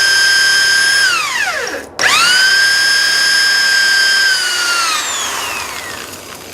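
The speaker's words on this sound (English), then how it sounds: "You can drill a hole then straight that way." A power drill whines loudly while drilling a hole, its pitch dropping as it slows, briefly stopping, then spinning back up to a steady high whir that gradually winds down.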